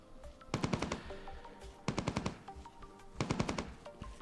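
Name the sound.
gunfire in video game Entropia Universe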